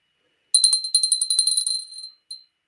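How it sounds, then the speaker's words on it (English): A signed Fenton glass bell, dated 1992, rings close up in a quick run of bright, clear strikes, then a short pause before one last softer ding, with no talking. "I'm gonna ring the bell."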